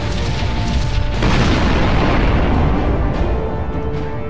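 Long-range weapons fire on a bomber in the space game Sunrider, giving a loud, sustained booming explosion with a rumbling roar that swells and then slowly fades.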